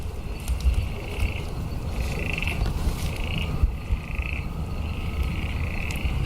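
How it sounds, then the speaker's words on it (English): Frogs call in a Karawatha bushland area at night, including green tree frogs, repeated croaking pulses every second or so over a dense hum of insects and other calls, moderately near, with no talk. "I hope you guys at home can hear all those lovely frog calls."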